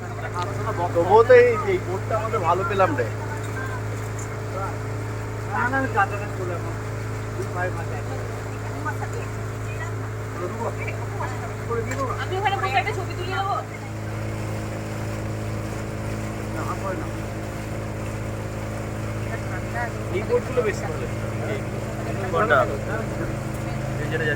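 A boat putters along on a lake ringed by hills near Ooty, its engine a low, steady hum with light wind and water wash, while people talk over it.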